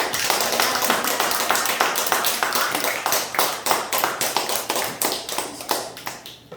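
A church congregation claps for the pastors' wives after their accompaniment and singing at a Sunday worship service, dense rapid applause that keeps a strong, steady beat and stays loud throughout.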